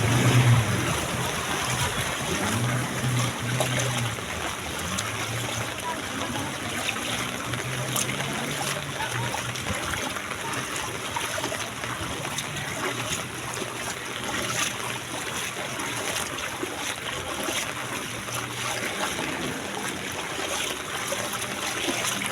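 Deep typhoon floodwater in Landayan during Typhoon Crising 2025 sloshes and rushes continuously as someone pushes through it, a close, steady watery churn with no talk.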